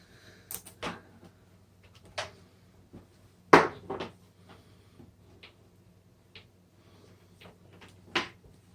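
Indoor household clatter with a drawer or cupboard being opened and shut, a handful of scattered wooden knocks and thumps of varying strength and one sharper bang near the middle, with quiet stretches between them.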